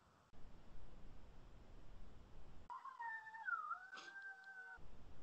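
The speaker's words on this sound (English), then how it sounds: "she's howling at the moon, baby" A woman in a film howls at the moon: a wavering, pitch-bending howl that rises and dips for about two seconds. The howl stands out over a faint hissy background.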